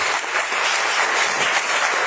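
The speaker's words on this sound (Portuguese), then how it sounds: "E as palmas bem alegres" A church congregation applauds in a dense, lively burst of clapping that holds steady and loud for the whole brief stretch.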